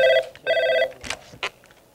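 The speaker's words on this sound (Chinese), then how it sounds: "萧美琴办公室电话从早就响不停" An office desk telephone rings in two loud, close electronic bursts, followed by short handling noises and a brief clatter as the receiver is picked up.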